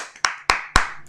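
A church congregation claps hands in unison, three sharp, evenly spaced claps in a reverberant hall, followed by a faint fourth, with no voices.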